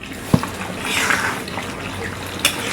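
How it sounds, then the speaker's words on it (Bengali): Potato and chicken skin curry bubbling in a pot on the stove, a soft, steady simmering hiss with occasional louder pops, heard close up. "দেখুন কি সুন্দর করে টকবক টকবক করছে"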